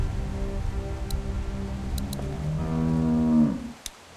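A cow moos in The Walking Dead video game, a long, fairly loud low bellow that swells and then cuts off, with a few faint ticking clicks nearby and no talk.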